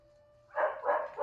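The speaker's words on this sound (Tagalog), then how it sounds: "Ang ingay ng mga aso eh." Several dogs bark in a quick run of loud, overlapping woofs close by, ending a bike ride to work, with no talking.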